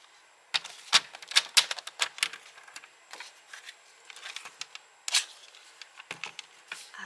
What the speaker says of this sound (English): I'm going to cut this down, this mossy green down to 4